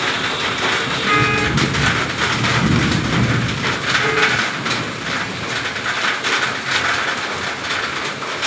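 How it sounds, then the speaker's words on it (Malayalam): Steady, loud rain pours down with a low rumble of thunder rolling underneath, a continuous wash of noise with no talking. "ഇന്നും മഴ തന്നെ. ഇന്നലെയും മഴ, ഇന്നും മഴ."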